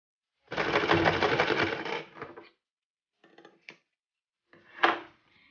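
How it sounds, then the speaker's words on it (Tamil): A sewing machine stitching fabric during a tailoring lesson: one continuous, close whirring run of about two seconds, then a few short stop-start bursts and clicks separated by silence. "இப்போ அந்த தையலை நான் போடுறேன்."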